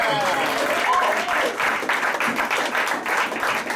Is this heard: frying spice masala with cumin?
no